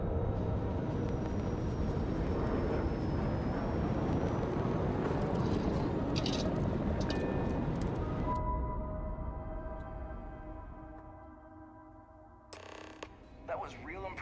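A spaceship flies in the video game Starfield, giving a loud, rumbling roar with creaking mechanical tones that fades out partway through, leaving quieter tonal game sounds.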